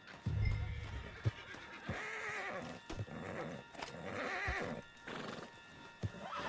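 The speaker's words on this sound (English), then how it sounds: "Put Strauss on the back of John's horse, and let's get out of here" A horse whinnies loudly over rhythmic galloping hoofbeats in a video game, with a second neigh later, up close and clear.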